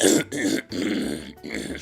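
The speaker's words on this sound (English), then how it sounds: "Can you stop making coughing noises?" Several harsh, raspy coughing bursts in quick succession, close and fairly loud, separated by short pauses, with broadband noise in the background.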